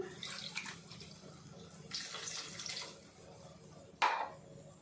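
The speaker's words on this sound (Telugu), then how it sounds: "కొంచెం వాటర్ పోసేసుకొని మనకి గ్రేవీగా కావాలి కాబట్టి దీంట్లో పోసేసుకుంటున్నాను" Water pours into a pan of Manila tamarind curry to make gravy, in a couple of soft, splashing runs, followed by a sharp clink and a final splash near the end.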